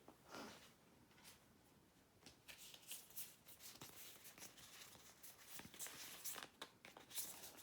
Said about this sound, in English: I'll just try to shuffle these up a bit.